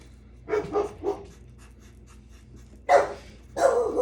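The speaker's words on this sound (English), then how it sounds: "Don't mind the barking." A dog barks nearby in short bursts, a quick cluster of three yaps followed after a pause by two louder barks, with faint panting between them in an otherwise quiet room.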